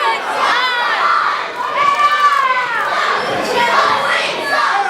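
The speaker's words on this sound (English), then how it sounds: "a loud chant of Justin sucks over and over throughout the crowd here early on" A packed crowd at an independent wrestling show chants in unison, loud rhythmic shouting repeated over and over with cheers mixed in, filling the space close and steady.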